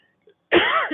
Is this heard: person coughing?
yes